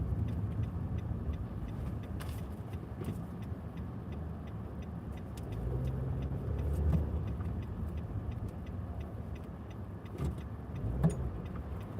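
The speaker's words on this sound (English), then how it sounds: "this car's doing 90 down Colfax." A car speeds past at about 90 on Colfax, a busy city street, heard as a steady, fairly loud road and engine rumble with a slight swell in the middle, with no talking.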